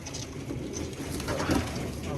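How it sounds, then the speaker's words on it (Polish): Young pigeons in a loft give soft, low cooing calls, faint and close, over a quiet steady background. "Naprawdę fajne te gołębie powychodziły teraz."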